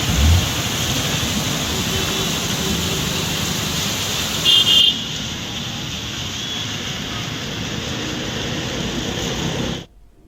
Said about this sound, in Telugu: హైదరాబాద్ లోని పలు ప్రాంతాల్లో మోస్తారు వర్షం పడుతోంది